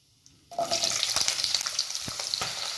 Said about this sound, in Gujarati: હવે આપણે કટ કરેલા બટાકા ઉમેરી લઈશું